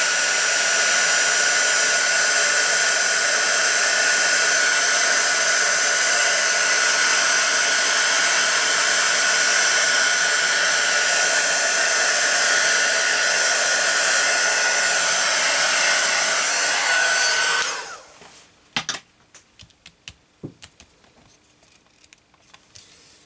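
A hair dryer blows steadily up close for about eighteen seconds, drying ink over a wax craft background, then switches off, leaving a few faint clicks and handling knocks.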